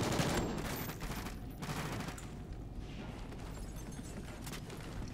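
Gunfire crackles in Call of Duty Ghosts as a dense, continuous burst of shots that sounds fairly distant and muffled, forming a rough roar that fades slightly toward the end.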